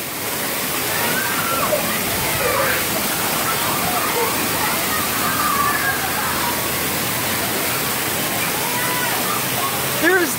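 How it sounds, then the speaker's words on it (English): Tipping red buckets dump water that rushes and splashes down in a loud, steady, continuous torrent, with faint voices mixed into the spray. "There's 1 red bucket, 2 red buckets, and they're gonna come down and get you wet."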